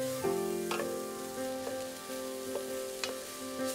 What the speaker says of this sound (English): We're just gonna take that packet, put it right in there, just stir it around to get covered.